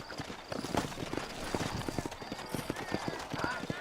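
Steady clip-clop of horse hooves at a walking pace in the video game Red Dead Redemption, with a brief whinny and some background murmuring voices.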